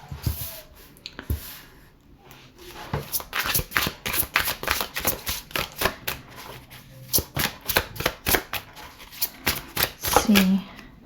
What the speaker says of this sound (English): Just feel the need to shuffle